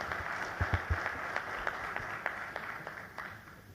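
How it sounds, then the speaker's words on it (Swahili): Scattered, fairly soft clapping rises from the audience at a hotel launch ceremony attended by President Samia Suluhu Hassan, with irregular individual claps rather than a dense roar. "makofi tafadhali."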